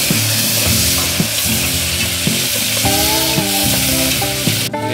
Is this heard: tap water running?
no